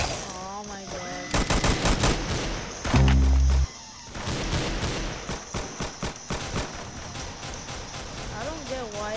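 In the Roblox game Arsenal, the High Power gun fires in a loud, short burst of synthetic game shots, close and punchy. Other game sounds and a talking voice run through the rest of the clip.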